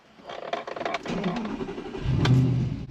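An Audi R8 engine starts up with a brief starter whir that swells into a deep, loud idle roar and a quick rev, heard close from inside or beside the car.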